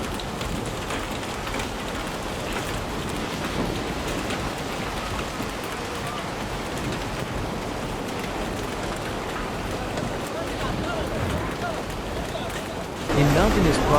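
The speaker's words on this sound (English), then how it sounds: "the relentless downpour shows no signs of easing" Torrential downpour during flooding in China: dense, steady rain hisses continuously and loudly, with a heavier surge of water noise near the end.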